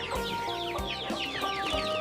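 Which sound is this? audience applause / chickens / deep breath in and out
chickens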